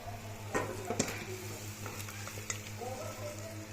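Rui fish heads frying in a pan with spice mix and salt, a steady close sizzle broken by a few sharp clinks and stirring scrapes, with a low electric hum running underneath.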